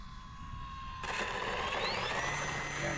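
An FMS Pilatus PC-21 RC model plane doing a touch and go, its electric motor whine rising and shifting in pitch as it passes close over a steady broadband rush, with no talk.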